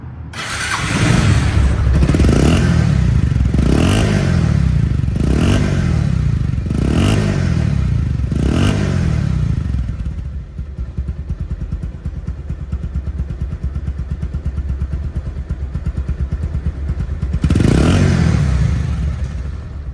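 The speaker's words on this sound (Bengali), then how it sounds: "এখন বাইকটি ইঞ্জিন সাউন্ডটা শোনেন" Nearby Bajaj Pulsar motorcycle engine revs repeatedly in sharp bursts, settles into a steady throbbing idle, then gives one more loud rev near the end.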